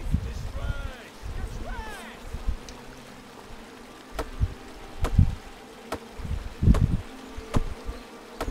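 A droning buzz of bees in the video game King's Quest: Chapter 1 hovers in the background, broken by several sharp clicks and thumps, with a brief voice near the start.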